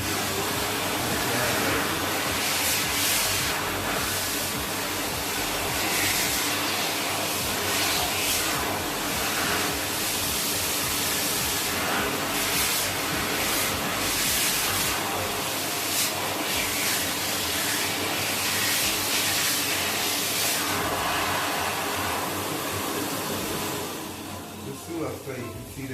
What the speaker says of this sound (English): I take it to the dryer.